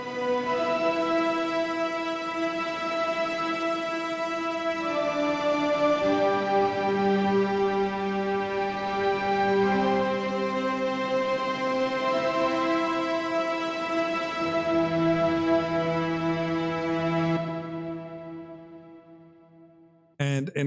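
A synth string lead from a Jupiter 8 patch in Novo holds sustained, bright notes that step slowly through a melody for about seventeen seconds, then fades out and cuts off with a short click.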